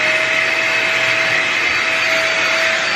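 A Snow Joe ASHJ201 ash vacuum runs with a loud, steady, even whine and rush of air throughout, with no talk.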